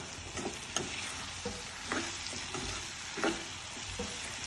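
Soaked basmati rice roasting in a pan over a raised gas flame for tomato rice, a steady soft sizzle with occasional scraping strokes of a spoon, close and moderate in level.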